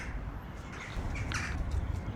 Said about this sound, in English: Look at those crows.